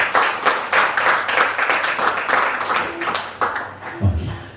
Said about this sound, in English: I think this does deserve a full round of applause